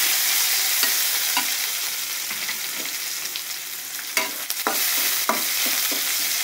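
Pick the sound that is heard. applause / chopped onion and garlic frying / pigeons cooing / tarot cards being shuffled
chopped onion and garlic frying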